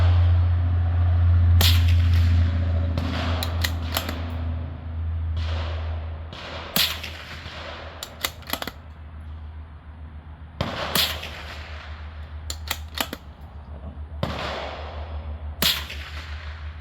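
Sharp, cracking gunshots from a bolt-action rifle at an outdoor shooting range, spaced single reports, some in quick pairs, loud and close over a low steady hum.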